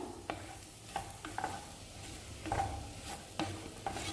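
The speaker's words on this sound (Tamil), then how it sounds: "கிளறி விட்டுருங்க, இல்லை லைட்டாக அடி பிடிச்சிரும்." Sirukilangu frying in oil in a pan, a constant soft sizzle broken by several sharp scrapes and clinks of a spoon being stirred through, close up with no talking.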